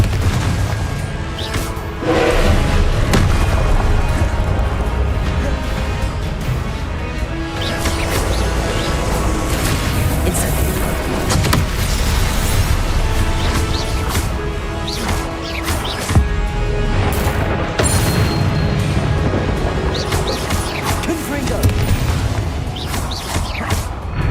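Confringo blasting spells explode in Hogwarts Legacy, a continuous run of heavy booms, cracks and crashing debris from a fantasy combat game, loud and dense throughout with no talk.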